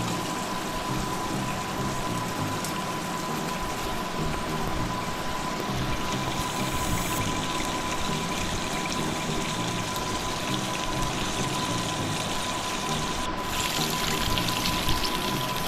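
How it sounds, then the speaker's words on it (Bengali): Chicken pieces frying in a pan over low heat give a steady, dense sizzle and crackle that runs evenly throughout, close and moderately loud with no talking. "আমি এই চিকেনগুলোকে প্রায় 4-5 মিনিট এভাবে ভাজতেই থাকবো।"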